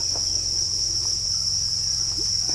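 Farmed crickets in a rearing setup give a steady, loud, continuous high-pitched chirring drone that holds unbroken throughout, with faint scattered clicks beneath and no voices.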